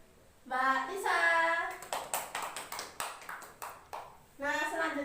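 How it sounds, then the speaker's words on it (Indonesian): Classroom clapping for a student, Mbak Lisa, at an Indonesian school lesson: a burst of roughly a dozen sharp, fairly even hand claps sounding between and under a woman's and a child's spoken words. "Tepuk tangan untuk Mbak Lisa."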